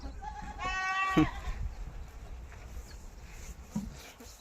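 Goats on a farm in rural Saudi Arabia, one bleating clearly for about a second with a harmonic cry, then faint shuffling and a softer bleat in the background.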